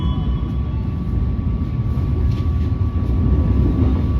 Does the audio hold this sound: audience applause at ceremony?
no